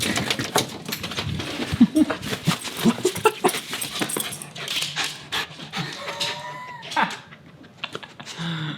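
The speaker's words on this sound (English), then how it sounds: "I was wondering why Casper was barking for so long" A dog barks and pants close by, with sharp clicking like keyboard typing throughout and a whimpery high whine near the end.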